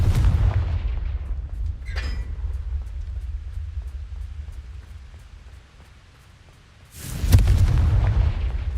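A Confringo blasting spell goes off in Hogwarts Legacy as a loud, deep boom with rumbling low-end, followed by a quieter lull and then a second heavy blast near the end.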